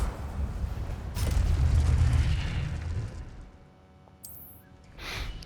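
The Incendio fire spell is cast in the Hogwarts Legacy video game: a rushing, roaring burst of flame swells for a couple of seconds then fades, followed by a few faint magical shimmers.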